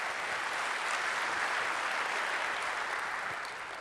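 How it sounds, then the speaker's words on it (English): An audience gives faculty members a round of applause at a college and university public affairs event, a steady, dense wash of many hands clapping, heard from a moderate distance without breaks. "Let's give all of our faculty at our college and university a big round of applause."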